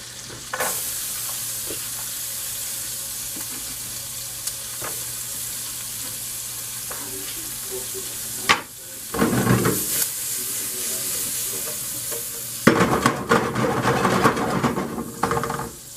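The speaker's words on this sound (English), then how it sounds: "You want to fry and caramelize your onions first." Onions frying and caramelizing in a pan, a continuous hiss and sizzle broken by louder bursts of crackling and scraping as they are stirred partway through.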